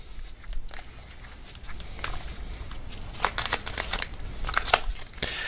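A tarot card is drawn from a deck, heard as soft crinkling and shuffling rustles with a few crisp snaps. The handling is quiet and close, and no one speaks.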